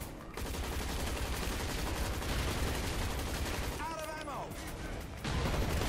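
Sustained gunfire in the video game HaZard Ops rattles densely under excited talk, with the loud battle din briefly giving way to a rising electronic whine before the shooting resumes.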